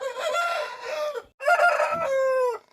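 Country chickens suffering from a snoring respiratory problem crow loudly and cluck at close range, with two drawn-out crows separated by a short pause.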